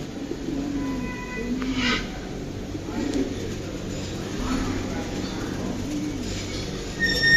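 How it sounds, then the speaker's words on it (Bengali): Pigeons of many breeds kept as a collection on a cattle ranch in Bangladesh coo softly in a low, continuous murmur, with faint chirps and background talk mixed in throughout. "কবুতরের কালেকশন সব রাখছে যত রকমের কবুতর পাওয়া যায়"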